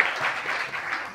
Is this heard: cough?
no